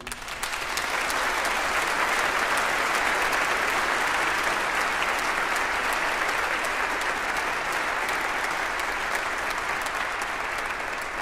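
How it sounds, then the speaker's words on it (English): A concert audience gives sustained applause for the seniors at a spring choir concert of the Lucia Singers and Chapel Choir, a dense, loud, even roar of many hands clapping that continues unbroken. "So a round of applause for you."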